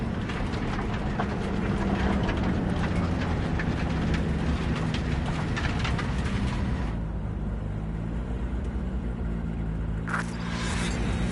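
A train in the video game Cyberpunk 2077 rumbles and clatters steadily, a loud continuous mechanical roar that eases slightly partway through.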